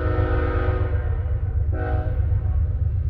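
A BNSF freight train horn blowing on a night run, two sustained chord blasts with a short gap between, over a steady low rumble of rolling railcars, loud and fairly close.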